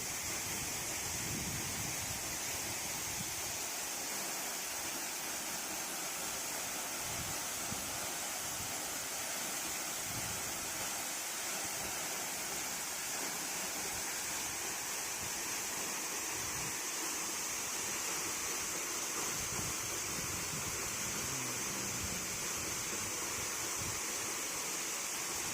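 Water pours steadily over the Montel waterfall on Mount Muria in Kudus, a constant, faint, broad rushing wash with no break and no voices.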